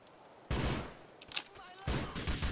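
Bursts of gunfire from the video game GTA The Lost and Damned, a loud volley starting abruptly, sparser shots in the middle, then another heavy burst near the end.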